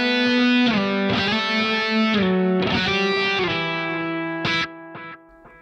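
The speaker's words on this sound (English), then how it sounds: "I've added a delay to it just to give it some extra space" Electric guitar with delay played through a Positive Grid Spark amp on the Insane setting, a distorted, scooped tone of sustained chords and notes whose repeats trail off at the end, with no talk.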